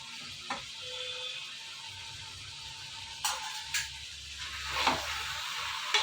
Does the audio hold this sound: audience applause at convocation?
no